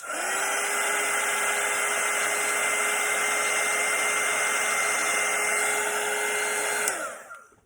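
A hair dryer blows steadily on wet watercolour paint of a Christmas poinsettia, a loud, even whine held for about seven seconds before it switches off and winds down.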